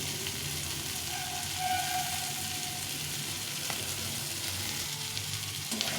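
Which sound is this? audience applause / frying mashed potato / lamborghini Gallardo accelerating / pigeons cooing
frying mashed potato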